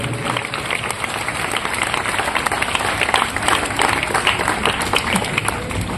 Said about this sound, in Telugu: కాబట్టి వారిద్దరికీ గట్టిగా చప్పట్లు కొట్టి కృతజ్ఞతలు తెలియచేద్దాం